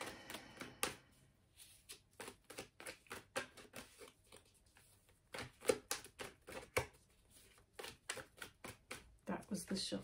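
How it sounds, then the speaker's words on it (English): Tarot cards are shuffled in quick bursts of crisp riffling flutters, repeated several times with short pauses, close and fairly quiet. "That was the shuffle."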